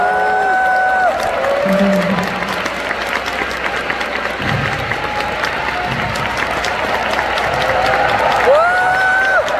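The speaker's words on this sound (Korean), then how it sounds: "그렇게 긴 박수?" A concert audience gives sustained applause with crowd cheering, a dense, continuous roar of clapping. Scattered high whistles and shouts rise above it for nearly ten seconds.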